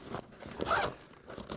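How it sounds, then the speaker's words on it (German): Zipper pulled open along the U-shaped opening of a Tasmanian Tiger Modular Medic Insert 30VL pouch, a short close rasping zip preceded by light handling rustles. "Auch hier wieder U-förmig Reißverschluss zum Öffnen."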